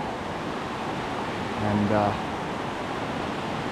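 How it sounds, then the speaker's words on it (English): A small waterfall in a creek on a Rocky Mountains hiking trail gives a steady, broad rushing hiss throughout, with a man's brief spoken word rising over it midway. "at the base of this little waterfall"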